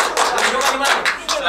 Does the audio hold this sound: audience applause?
yes